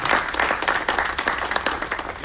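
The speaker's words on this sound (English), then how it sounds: "Let's give them a round of applause." Applause rises from an audience at a media briefing, a steady dense patter of many hands clapping throughout, fairly loud and close, with no voices over it.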